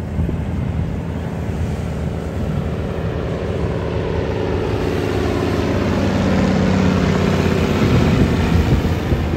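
Firefighting aircraft pass overhead near a forest fire in Greece, a steady low droning rumble that swells slightly toward the end, mixed with wind buffeting the microphone and no voices.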